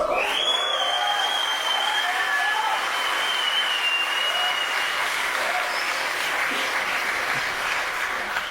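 A live poetry show audience breaks into sustained, loud applause with some cheering and a high whistle near the start, and the clapping stays even and full to the end.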